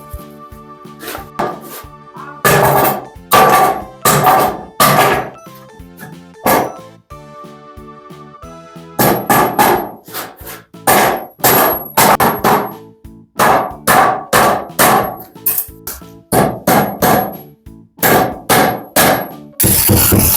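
Repeated sharp metallic hammer strikes driving nails come in quick bursts with short pauses, loud and close, ringing with a clanging edge.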